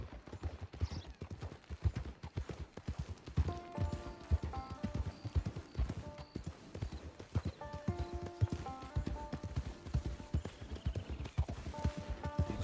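Horse hooves clip-clop at a steady walking pace on hard ground, a continuous rhythmic series of close, fairly soft knocks, with a musical score playing softly underneath.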